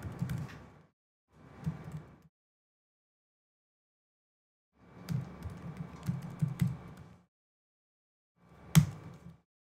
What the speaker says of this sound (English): I can go to my terminal and I can type